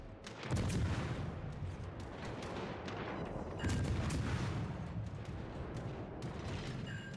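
Enemy warships in a naval combat video game fire their guns in repeated heavy booms and rumbling salvos, loud and continuous, with dense overlapping blasts throughout.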